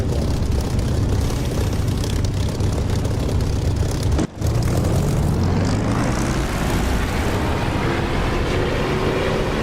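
A propeller aircraft engine roars loudly and steadily during takeoff in the DCS flight simulator game, its pitch slowly rising as it accelerates, with one brief dropout near the middle.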